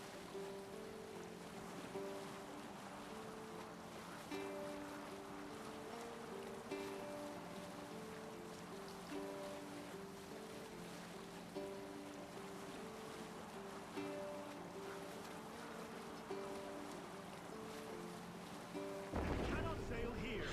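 Longship gliding across open water in Assassin's Creed Valhalla, a steady wash of waves and wind under a droning, sustained musical tone, with a rising burst near the end.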